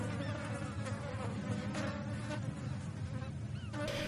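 A steady, close insect buzz drones continuously with a fluttering hum, like a fly hovering nearby, with no voices.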